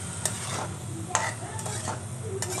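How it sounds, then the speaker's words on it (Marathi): Mixed vegetables with salt stir-fried in a pan for a potato dish, giving a steady sizzle with a few sharp scrapes and clinks of a spatula against the metal, close and continuous with no talking. "सगळ्या भाज्या टाकून घेतल्यात, मीठ टाकले आणि छान 2 मिनटं सगळं एकजीव करून परतून घ्यायचे"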